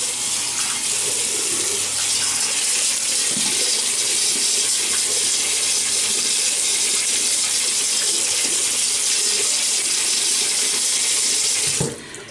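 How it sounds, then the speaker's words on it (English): Running water from a tap pours steadily and loudly for about twelve seconds as a man wets his face ahead of shaving six days of stubble, with small splashes, then stops abruptly. "so let me wet the face"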